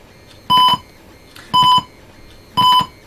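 Three short electronic tone beeps from an Arduino speaker, evenly spaced about a second apart, each bright and steady, with a faint background hiss between them.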